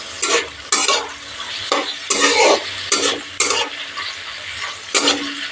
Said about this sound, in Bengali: লো হিটে চিংড়ি মাছ 2 মিনিট ভেজে নেব।